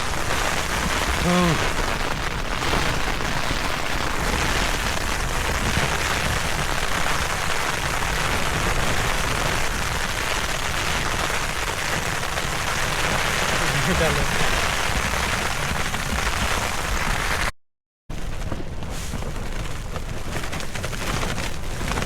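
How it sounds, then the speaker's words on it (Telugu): Steady heavy rain with strong gusting thunderstorm wind in a desert at night roars continuously and close, broken by a brief dropout near the end. "వర్షం పడుతుంది కానీ థండర్ స్ట్రోమ్ వచ్చింది."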